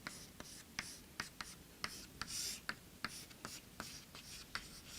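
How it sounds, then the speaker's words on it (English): A pen or marker writes a formula by hand, producing rapid scratchy strokes and taps in an irregular rhythm, close and faint, with no talking. "I write this formula."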